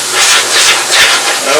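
Spray cleaner (low-cost QD electronic cleaner) hissing steadily as it blasts dust off the chassis of a vintage Hallicrafters SX-100 shortwave receiver, loud and close in pulsing bursts with no talk.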